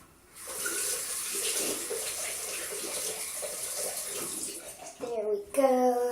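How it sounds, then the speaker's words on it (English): Tap water runs steadily into a sink as hands are washed, a broad close rush for about five seconds before it stops, followed by a brief burst of voice at the end. "I'm gonna go and wash my hands"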